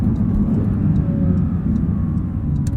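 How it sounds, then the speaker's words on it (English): A 2022 Porsche 911 GT3 with manual gearbox cruises with its exhaust in a quieter mode, giving a steady low rumble and drone throughout, heard from inside the car without talk. "the exhaust gets a little bit quieter in this mode too, for how I've set things up in this car"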